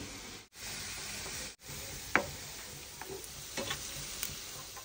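Sweets fry in oil with added ghee, a quiet, steady close sizzle cut by two brief dropouts, with a few light clicks and bubbling pops later on.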